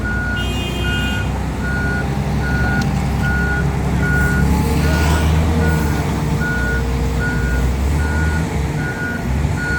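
A Marine Corps heavy-equipment truck backs up with a loud, evenly spaced electronic reversing beep repeating about every half second over a low diesel engine rumble, with a brief air-brake hiss early on.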